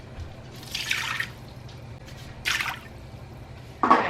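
Water is poured into an Instant Pot with a grid inside, about a cup's worth. Three separate splashing, dripping bursts come close and clear over a low steady hum.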